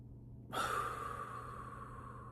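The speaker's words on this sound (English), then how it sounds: "Inhale for 3 seconds, hold your breath for 2, exhale for 3." A single deep breath drawn slowly and let out as part of a calming exercise, a soft airy rush starting abruptly and then trailing off gently, close and fairly quiet.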